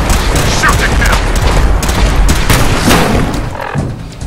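Rapid, dense minigun fire in the Fallout video game, a continuous loud barrage of overlapping booming shots that rolls on for several seconds.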